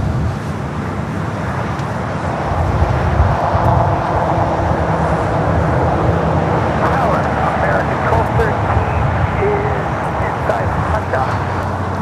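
A Japan Airlines Boeing Dreamliner departs LAX bound for Tokyo Narita, producing a broad, steady jet roar that swells slightly after the first few seconds, with voices talking over it.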